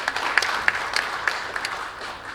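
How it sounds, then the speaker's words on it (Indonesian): Applause from a crowd at a book and song launch event, a soft continuous patter with a few sharper claps standing out, fairly distant and fading toward the end. "Tepuk tangan kepada beliau."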